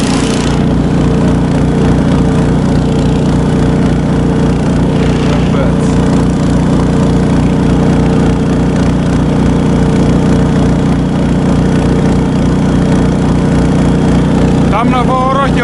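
A vehicle engine drones steadily at medium revs, loud and continuous, while travelling a winter marten trap line, with a faint voice briefly audible over it.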